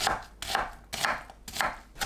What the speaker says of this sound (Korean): 양파도 믹서에 갈기 좋은 크기로 썰어줍니다.